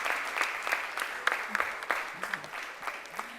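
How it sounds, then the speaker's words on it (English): Students at a school cooking and art competition give themselves a round of applause, many hands clapping at moderate volume with scattered sharper claps and brief voices cutting in. "Let's give ourselves a big round of applause."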